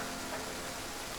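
Rain falls steadily as a soft, even hiss with no pauses, fairly quiet and with no voices over it.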